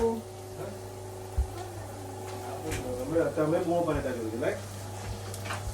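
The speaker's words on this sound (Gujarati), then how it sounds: "ડુંગળી શેકાય છે." Onions frying in a pan for dum aloo give a steady, soft sizzle beneath someone talking, with a low electrical hum running throughout.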